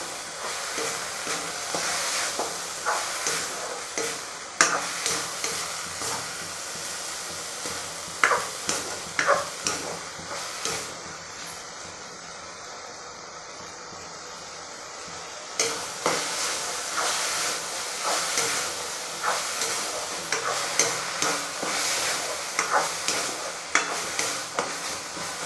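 Ginger garlic paste fries and gets stirred in a pan, steady sizzling under repeated scraping taps of a spoon, quieter for a few seconds in the middle before the stirring picks up again.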